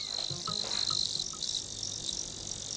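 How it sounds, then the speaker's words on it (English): A steady, high-pitched chorus of crickets trilling continuously, loud and close, with a few faint lower chirps underneath. "It's crickets."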